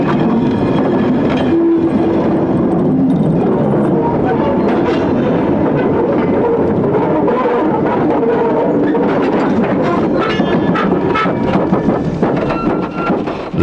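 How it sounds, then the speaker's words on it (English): Steady rumble of a steam train rolling along with rhythmic clatter of wheels over jointed rails bolted to wooden sleepers, continuous and fairly close, no voices. "Even the sound of wheel running on rail in the classic age was different."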